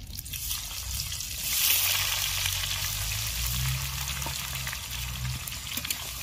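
Chopped onions frying in mustard oil for a Bengali chicken biryani, giving a steady, close sizzle with faint crackles and watery bubbling that holds at an even level throughout, with no talking.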